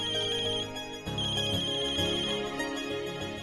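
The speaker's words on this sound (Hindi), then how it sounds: "हमेशा गलत टाइमिंग पे बजता है ये फोन।" A mobile phone ringtone rings loudly and steadily as a repeating melodic tone, alone with no voices, in an indoor scene.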